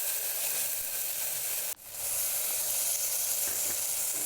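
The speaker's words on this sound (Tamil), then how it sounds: "ஒரு ரெண்டு ஸ்பூன் இஞ்சி பூண்டு பேஸ்ட் இஞ்சி பூண்டு பீஸ் நல்லா வதங்கட்டும்" Ginger garlic paste sautés in a pan for a mutton bone soup, giving a loud, continuous sizzle with one brief dip midway before the frying hiss returns at full strength.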